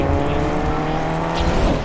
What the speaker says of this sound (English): Me and the boys rolling out in the car.